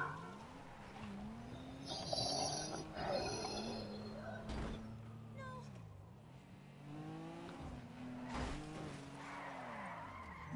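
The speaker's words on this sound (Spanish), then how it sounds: "Es que como derrapa, por favor." In a GTA video game, a car slides and drifts through repeated skids. Wavering tyre squeals ride over engine noise, with a couple of sharp knocks and a bird-like chirp mixed in. There is no clear talk.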